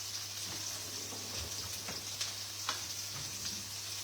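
Small Swedish meatballs fry in hot oil with a steady, close sizzle and scattered pops and spits, as if turned now and then with a utensil.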